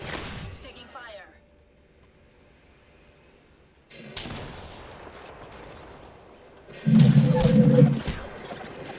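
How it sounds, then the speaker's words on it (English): Gunfire in the battle royale game Apex Legends, bursts of rapid shots at the start and in the latter half, loud and close, mixed with game effects while players talk. "Taking fire."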